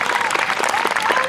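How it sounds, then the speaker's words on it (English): Listeners at a summer library concert clap for the event's sponsors, a dense, steady wash of applause from a crowd filling the whole brief moment. "Please give them a round of applause."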